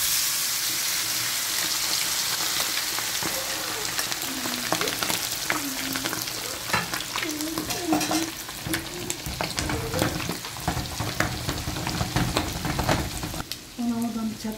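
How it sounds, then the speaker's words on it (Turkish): Food and spices stirred in a sizzling pan, a loud continuous fry with repeated scraping and clattering strokes close by, a voice murmuring faintly at times. "Her yerine gelecek şekilde karıştırıyorum."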